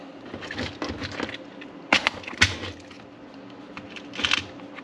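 Screws being rummaged through in a small collection, giving close, irregular clicks and rattles with a few sharper metallic clinks standing out.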